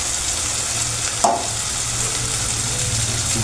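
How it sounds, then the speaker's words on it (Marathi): Masala spices fry in hot oil, giving a continuous close sizzle with a brief stirring scrape partway through, and no talking. "मसाले चांगले तेल सुटेपर्यंत फ्राय करून घेऊ, चांगलं तळून घेऊ."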